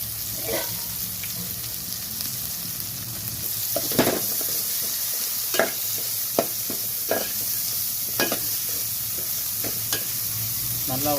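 Onion garlic paste and curry leaves sizzle steadily in a pan while being sautéed, a continuous frying hiss broken by several sharp scraping stirs of a spoon against the pan, close and clear with no talk.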